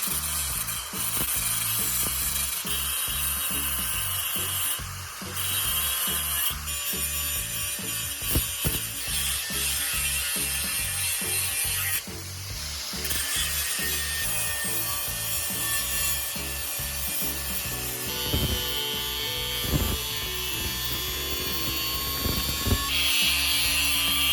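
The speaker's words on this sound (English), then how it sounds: "I'm just gonna take my angle grinder and we're gonna grind these welds" An angle grinder grinds down welds on a homemade steel pallet buster, a continuous loud abrasive whine with harsh rasping texture and brief dips, running steadily with no talking.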